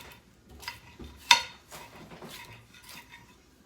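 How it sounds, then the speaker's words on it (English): A kitchen knife slices a pepper into julienne strips on a board, making a few sparse soft cuts and light taps with one sharper knock. The sounds are close and quiet, with no talk. "And then I just take my knife and just cut it into julienne strips."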